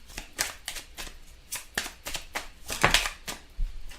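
Tarot cards are handled and laid one over another on a table, giving a series of light, close papery taps and slides at an uneven rhythm.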